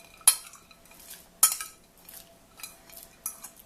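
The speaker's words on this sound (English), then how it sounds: "we're going to add that crushed bone right back into our broth" Crushed chicken bone tipped into a slow cooker of broth, heard as two sharp clinks of bone against the pot followed by softer scattered clatter, close by with no talking.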